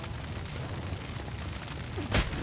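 An explosion in the video game Lamplighter's League bursts as one brief, heavy boom over a steady rumbling game backdrop.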